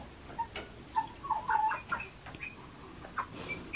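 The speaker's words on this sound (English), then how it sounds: "That's my white cochin rooster." A white Cochin rooster and several chickens cluck nearby in a series of short, uneven calls spread across a few seconds, with no talking.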